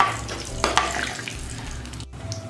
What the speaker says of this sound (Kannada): 10 ಸೆಕೆಂಡ್ಸ್ ಇದನ್ನ ಹೀಗೆ ಫ್ರೈ ಮಾಡ್ಕೊಳ್ಳಿ